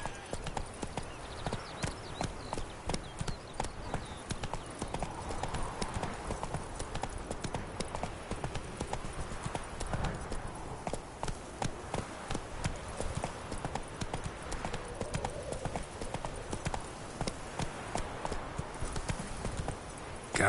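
Steady clip-clop of a horse's hooves trotting through The Witcher 3: Wild Hunt, an even, continuous rhythm up close over a low ambient bed, with no talking.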